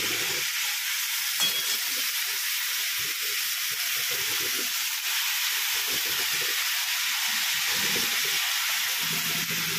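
Brinjal sautéing in hot oil gives a steady, fairly loud sizzling hiss throughout, with soft stirring scrapes and clinks underneath and no talking.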